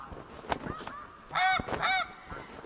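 Snow geese honking in the hunting video game TheHunter Classic, a few distinct nasal honks in quick succession, fairly close, over quiet wingbeat-like flutter and faint background noise.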